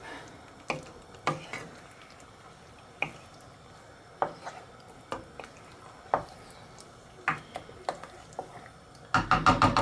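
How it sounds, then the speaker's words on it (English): Shrimp and chicken pasta stirred in a pan, heard as soft, irregular scraping clicks and wet taps spaced a second or so apart, close and quiet, quickening into a quick cluster of stirs at the end. "You just want to mix that up."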